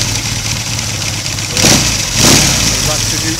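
A BSA A10 Super Rocket motorcycle engine runs with its primary cover removed, loud and close, with a steady idle broken by two short bursts of revving.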